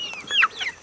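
Americana chickens cluck in short, close chirpy calls, with a pair of brighter notes in quick succession over quiet farmyard background.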